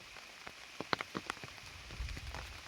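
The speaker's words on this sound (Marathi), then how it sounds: "चला, तर पाऊस आलाय" Monsoon rain falls in a Konkan forest while wild vegetables are gathered, a soft, steady patter with scattered sharper drops striking leaves nearby, faint overall, with a low rumble of movement late on.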